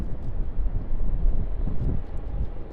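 Strong gusts at a Sydney Airport plane-spotting spot buffet the microphone in a rough, uneven low rumble, with a faint distant aircraft hum underneath and no voices.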